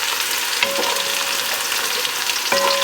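Crushed garlic sizzles in a hot pan with a steady frying hiss, joined by a couple of brief clinks and scrapes as it is stirred.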